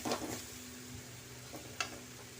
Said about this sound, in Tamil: வாழைக்காய் நல்லா வதங்கட்டும்.